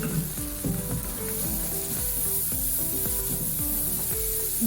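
Turmeric, red chili powder, coriander powder and salt sizzle and fry in a pan for a rajma (red bean) dish, a constant close hiss with some scraping and faint music underneath.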